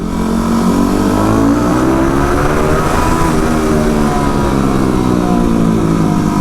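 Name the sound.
Yamaha WR250R supermoto motorcycle engine revving loudly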